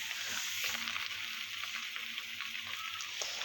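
Mixed vegetables for pinakbet, squash among them, fry in a pan with a steady, close hiss of sizzling oil, and faint stirring scrapes come through now and then.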